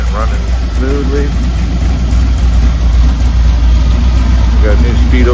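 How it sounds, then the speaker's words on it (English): A Chevy van engine idles steadily and loudly up close, a smooth continuous rumble with no talking over it. "Finally got the engine running smoothly."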